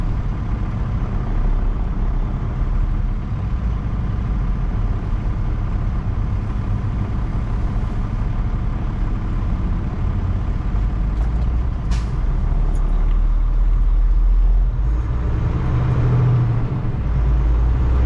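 A truck rolls through city traffic, its engine a steady, loud low rumble and road roar throughout, with a brief hiss near the end.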